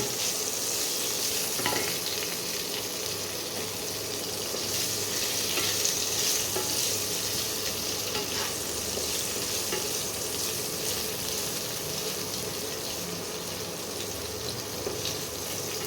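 Steamed cauliflower frying in oil, a loud continuous sizzle close by with regular stirring scrapes throughout and no talking.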